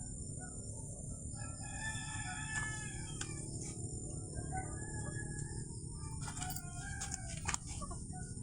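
A distant rooster crows faintly a few times over a steady bed of crickets and rural ambience in a Philippine yard with fighting cocks, no talking.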